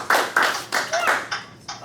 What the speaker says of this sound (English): let's clap for Miss Nancy Brown.